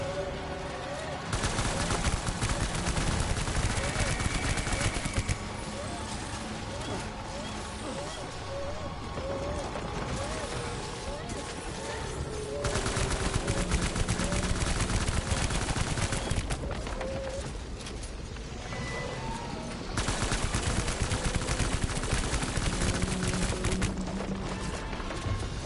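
Gunfire from a gun in Death Stranding, steady sustained bursts of rapid shots in several long stretches, loud and continuous, with brief quieter gaps between volleys.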